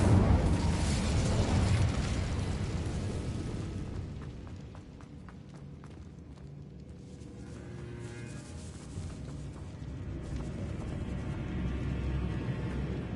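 The Incendio fire spell in Hogwarts Legacy bursts with a loud whooshing blast, then settles into crackling flames and scattered pops that fade before swelling again near the end.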